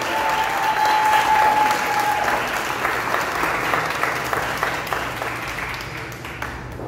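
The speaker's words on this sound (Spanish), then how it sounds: "pido un fuerte aplauso" Strong applause from an audience at a music event, loud and sustained clapping from a sizable crowd that holds steady and then eases off slightly toward the end.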